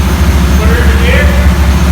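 A 1970 Chevrolet engine with a Saginaw four-speed runs at a steady, close, low rumbling idle as it is put into gear, with faint voices in the background.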